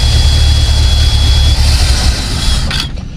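A 1956 Chevy engine idles loud and close, a steady deep rumble that holds evenly throughout.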